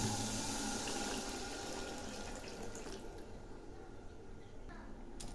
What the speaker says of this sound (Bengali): মশলা কষানো হয়ে গেছে, এখন জল দিয়ে দিলাম।